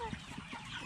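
A chicken gives a few soft, low clucks close by, brief and quiet against a faint background.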